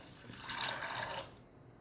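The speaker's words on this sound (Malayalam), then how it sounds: "ഇതിൽ 1 കപ്പ് വെള്ളം ഒഴിക്കാം" A cup of water pours briefly into a pot of green peas curry in a soft, steady rush lasting about a second, then stops, with no voices.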